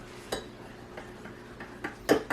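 A spoon stirs a cup of coffee, giving a few light, separate clinks against the cup spread over a couple of seconds, close but quiet, with no talk.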